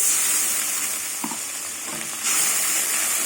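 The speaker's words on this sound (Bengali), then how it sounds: "এবার মশলাটা কিছুক্ষণ কষিয়ে নেব" Green chilli spice paste with tomato sautéing in a pan for a banana-flower fish curry, a steady close hiss and sizzle with a couple of brief stirring scrapes partway through.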